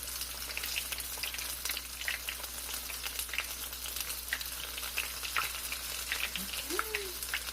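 Food sizzles steadily in very hot oil while a paprika-heavy recipe cooks, giving a continuous dense crackle with scattered sharper pops throughout.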